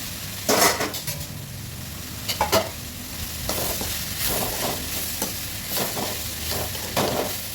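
Ground coconut and cumin sautéing into cluster bean kootu in a pan, a steady sizzle broken by sharp scrapes and clinks of a spoon against the pan in short bursts, close up, no talking.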